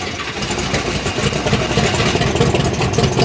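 A 1,500 hp methanol-fuelled car engine running close by, a loud, dense, rough roar that holds steady and grows slightly stronger with pulsing throb, no voices over it.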